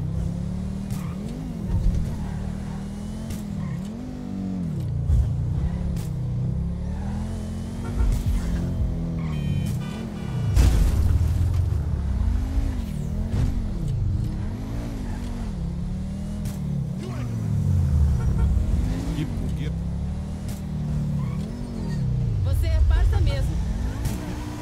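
A car accelerating in GTA V, a Pagani supercar during a jewelry store heist; engine revs rise and fall repeatedly in loud sweeping surges, with gear shifts and brief tire noise, under someone talking over the gameplay.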